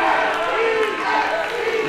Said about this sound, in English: This crowd trying to chant